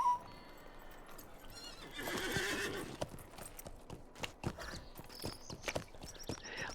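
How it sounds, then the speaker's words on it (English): A horse in the video game Lord of the Rings Online whinnies loudly, then hooves clop in an irregular rhythm with a few sharp thuds; close by, with no speech. "Let's go ahead and mount up on my horse"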